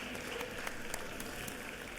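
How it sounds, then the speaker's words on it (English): Legislators in a state House chamber applaud guests marking Pre-K Week, a quiet, distant patter of many hands that holds steady for the whole moment, with a few claps popping out. "Give them a big round of applause."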